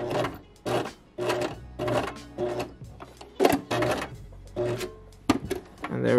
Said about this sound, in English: Now we're gonna backstitch.